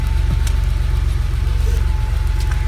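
A 1987 Porsche 911 Carrera Cabriolet's flat-six idling steadily just after starting, a loud, even low rumble with a fast regular pulse, heard from close by with no talk.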